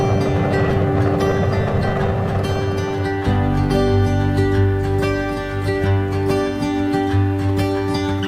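Spaceship engines start up in the video game Homeworld 3, a loud, steady low drone with a humming tonal layer that shifts to a deeper, rumbling pitch partway through.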